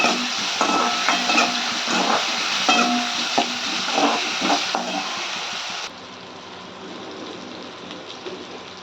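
Tomatoes sauté in a pan with a little turmeric, giving a loud, close sizzle broken by irregular stirring scrapes. The sound drops to a softer hiss for the last few seconds.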